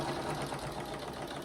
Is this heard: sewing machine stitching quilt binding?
yes